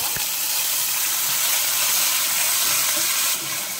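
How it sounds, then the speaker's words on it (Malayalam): Chopped ginger and garlic sizzle in hot oil for a fish molly, giving a steady, close, even hiss throughout with no voices over it. "എണ്ണ ചൂടായിട്ടുണ്ട്, നമുക്കതിലേക്ക് ഇഞ്ചി വെളുത്തുള്ളി അരിഞ്ഞത് ചേർത്ത്"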